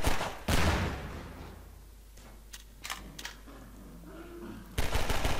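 Pistol gunfire in the Half-Life video game comes as a few sharp, close shots, separated by quieter game ambience and faint clicks, then another burst at the end.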